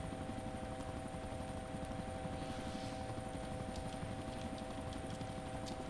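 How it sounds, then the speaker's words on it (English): A helicopter in the DayZ video game flies overhead, its steady rotor drone filling the background continuously at moderate level, with faint game sounds mixed in. "Oh, I hear your heli."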